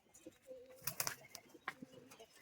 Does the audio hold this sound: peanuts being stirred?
no